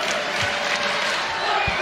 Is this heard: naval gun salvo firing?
no